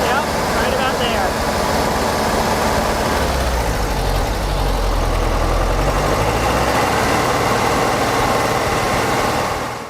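Engine of a Speedster car running steadily during carburetor adjustment, a loud close idle with a deep rumble that rises slightly in the middle, continuous throughout.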